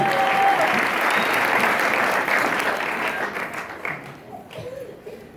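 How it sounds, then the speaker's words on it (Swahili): A church congregation breaks into loud, sustained applause for God during worship, a dense wash of many hands clapping that slowly thins and fades toward the end, with some voices mixed in. "Tumpigie Mungu makofi mengi"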